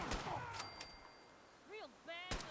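Sniper rifle shots ring out in a video game as sharp, loud cracks spaced apart, with voices in between.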